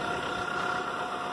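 The engine of a 1996 Toyota Camry idles steadily with an even, low hum and slight vibration, heard close up and alone.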